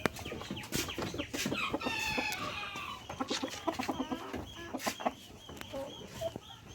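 Chickens at a poultry farm in Gabtali, Bogura, clucking and squawking in quick, overlapping bursts, close by and fairly faint, with a busy chatter of birds throughout.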